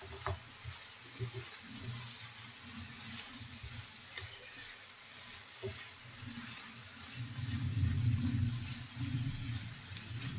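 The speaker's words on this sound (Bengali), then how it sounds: "এখন ভালো করে নেড়ে চেড়ে করলাটা ভেজে নেব মিডিয়াম আঁচে নেড়ে চেড়ে আমি করলাটা ভেজে নেব" Sliced bitter gourd frying in a pan over medium heat, a steady soft sizzle with occasional scrapes and stirs of a spatula, the frying growing louder and fuller near the end.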